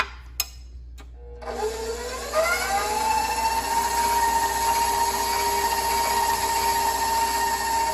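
An electric mixer beats cake batter in a bowl, starting with a few clicks, then rising into a steady, close whir that holds evenly to the end.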